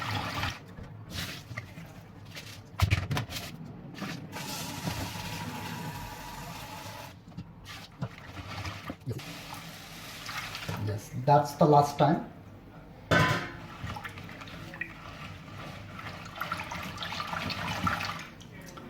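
Rinse water from sushi rice splashes and pours out of a pot in bursts, with gurgling and running water between them, while a person speaks briefly near the end.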